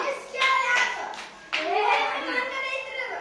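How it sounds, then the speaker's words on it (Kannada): A class of schoolchildren claps for a classmate, several bursts of close, scattered hand claps mixed with children's voices, and an adult speaks over them. "ಹೊಡಿರಿ ಬೀರಪ್ಪಗೆ ಚಪ್ಪಾಳಿ ಹೊಡಿರಿ"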